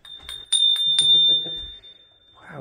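An old bell in an abandoned 300-year-old mansion is struck a few times, giving a sustained bright ring that fades out, with a voice heard at the end.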